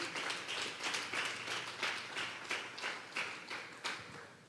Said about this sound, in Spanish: Denle una ofrenda de palmas a Dios